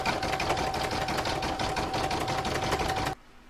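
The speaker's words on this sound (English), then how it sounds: "I'm now going to pop that back in my machine and stitch round number 6, which is going to zigzag all the raw edges." An embroidery machine runs steadily for about three seconds, zigzag-stitching the raw edges on a snowman coaster design with a fast, even mechanical chatter before stopping abruptly.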